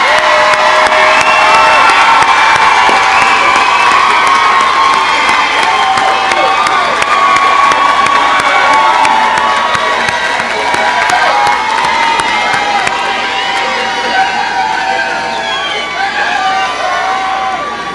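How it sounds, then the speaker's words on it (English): Loud crowd cheering and clapping for graduates at a commencement ceremony, with whoops and children's shouts, sustained throughout and fading slightly toward the end. "Let's all stand and give them a round of applause,"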